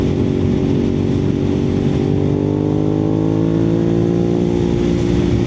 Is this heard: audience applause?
no